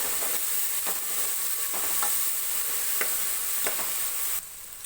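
Ground masala fries and sizzles in hot tempering oil for tomato bath while a spoon stirs it in the pan, giving a steady crackling hiss broken by several scraping strokes, close and alone.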